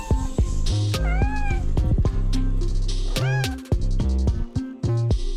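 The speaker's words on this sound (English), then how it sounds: "It is a cat." A cartoon cat in an animated farm-animal learning game gives a few drawn-out, rising and falling meows over bouncy background music.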